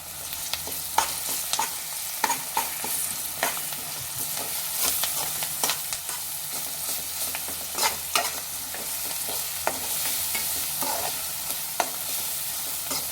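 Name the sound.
ginger garlic paste and curry leaves frying in a pan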